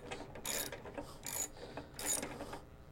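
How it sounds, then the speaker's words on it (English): Socket wrench ratcheting while tightening belt pulleys, three short bursts of clicking, close and fairly quiet, with no talking. "we'll just get the socket wrench back out and we'll tighten the pulleys up"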